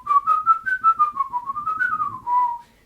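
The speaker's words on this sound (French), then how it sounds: "souvent quand on détache en sifflant" A run of about nine whistled notes near one pitch, each sharply detached with a tongued attack, drifting gently up and down, close and clear with no talking, showing the articulation used for trombone playing.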